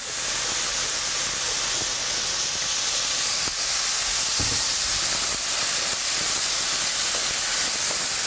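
Meat browning in hot oil in a pan over high heat gives a steady, loud broadband sizzle and hiss that runs continuously throughout, with a brief soft clatter midway and no voices.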